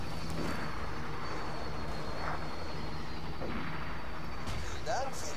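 Helicopter rotor drone and scattered gunfire from the video game Borderlands 2, a steady roar with occasional distant bangs, heard under a voice talking over the action.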